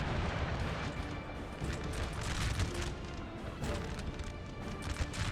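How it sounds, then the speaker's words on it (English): Teams of 6-pounder cannons firing in the Napoleonic battle game Napoleon Total War near Waterloo, dense booms and crashing impacts layered over a constant roar of battle noise, loud and continuous. "We have another team of 3 6-pounders here blasting this unit"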